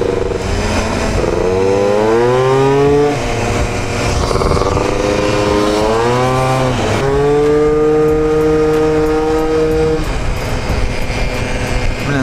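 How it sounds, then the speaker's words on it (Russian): A Honda Dio 35ZX moped engine revs up repeatedly, rising and falling in pitch in several long, buzzing swells, loud and close with no talking. "Ну, мопед, как обычно, раскручивается."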